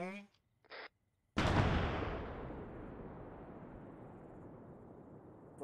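A controlled explosion in the game Arma 3 bursts suddenly after a short spoken countdown, a loud broadband blast that decays into a long rumbling tail.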